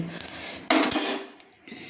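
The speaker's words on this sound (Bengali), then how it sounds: "ভাজা মশলাগুলো দিয়ে আমি শিলপুতাতে গুঁড়িয়ে নিচ্ছি" Roasted spices crushed on a stone slab with a grinding stone for a winter-vegetable khichuri produce a few close, sharp knocks and a harsh grating scrape. Short bursts stand out against quiet background, with no voices.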